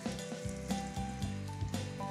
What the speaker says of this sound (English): What's important when searing, because searing is a key part to caramelize the chicken a little bit, promote browning